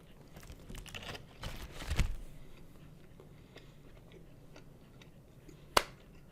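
Quiet, close bites and crunchy chewing on a Wendy's Krabby Patty burger heaped with Thousand Island–style Krabby sauce, with a cluster of mouth sounds around the two-second mark and a sharp click near the end.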